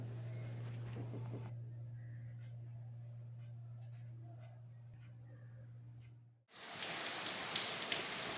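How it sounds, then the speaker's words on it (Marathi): Soft, steady rain patters faintly in the background, a low hum running underneath, before a brighter, louder burst of rain noise takes over near the end. "तरी पण पाऊस चालू होता"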